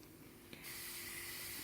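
A homemade dishwasher powder mix fizzes and crackles after water is sprayed on, a soft spray giving way to a steady, faint hiss close by.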